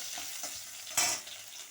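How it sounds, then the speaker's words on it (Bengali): Onion and panch phoron frying in mustard oil, a close continuous sizzle with a quick scrape of a spatula stirring through the pan. "এই যে পাঁচফোড়ন দিয়ে দিলাম একটু পেঁয়াজ ফোড়ন দেব নাড়া দিয়ে নিই"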